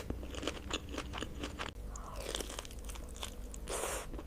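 Close, crunchy chewing and biting of fish curry during a mukbang meal, with repeated soft crunches and moist mouth sounds, quiet and intimate with no talking.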